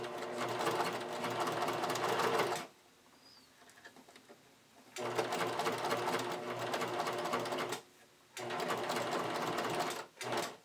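A sewing machine stitches a bodysuit in three loud, steady bursts of rapid whirring, split by short quiet pauses, close up with no talking.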